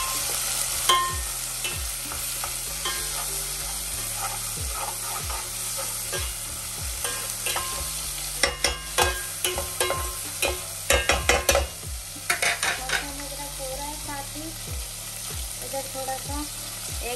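Garlic and ginger sizzle in hot oil in a pan for khichdi, with continuous frying crackle and repeated scraping stirs of a spoon, louder clattering bursts midway and no talking.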